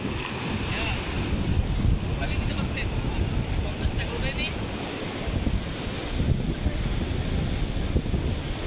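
Sea waves and wind at Laboni Beach in Cox's Bazar make a dense, continuous roar with heavy wind buffeting on the microphone throughout.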